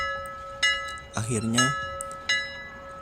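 A doorbell rings in a creepypasta horror narration, sounding as repeated bright chimes with sustained ringing tones under a short stretch of narrated speech.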